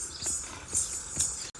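A mare's hooves clip-clop in a quick, even rhythm during a dancing riding round in a Kathiawadi village, with a few close, distinct beats and no voices.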